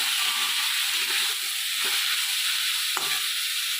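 Loud, steady sizzle of fenugreek greens and vegetables frying in a pan, with scraping stirs and a sharp clink of a utensil near the end; no talking.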